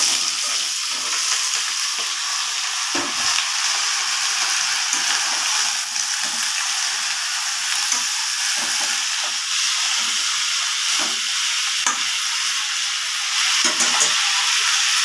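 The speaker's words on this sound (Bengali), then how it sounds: "এখন আমি তরকারিগুলি দিয়ে দিচ্ছি।" Potato and pointed gourd curry sizzles and fries steadily in a pan with oil and fried chillies, a loud continuous crackle with occasional stirring scrapes, no talking.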